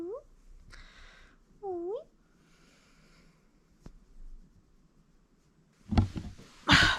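Pet cat meowing indoors, a couple of short rising meows near the start, close and soft, followed by someone talking affectionately and some rustling and a faint knock.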